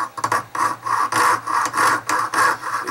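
A fine jeweler's saw works through metal at a bench with gentle, steady strokes, giving a close, rhythmic rasping of about six even back-and-forth passes with short pauses between.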